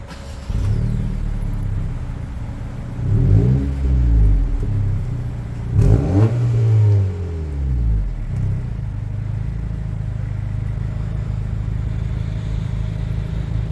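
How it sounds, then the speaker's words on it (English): A 2023 Acura Integra A-Spec with a six-speed manual starts up and is revved twice, each rev a loud rising and falling roar before settling back into a steady low idle rumble, heard close. "He's going to go ahead and turn on the car and give it a few revs for us."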